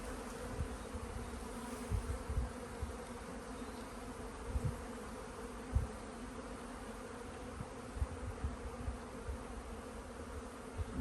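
Honey bees buzzing on a comb during a hive inspection, a dense continuous hum from many bees at close range with occasional soft knocks and bumps.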